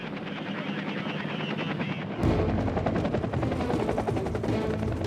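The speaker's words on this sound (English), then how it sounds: "One item of military hardware epitomizes American superiority in Vietnam: the helicopter." A Vietnam War-era military helicopter drones with a steady rotor chop and engine roar that jumps abruptly louder and closer midway, then continues as a dense, thumping pulse to the end.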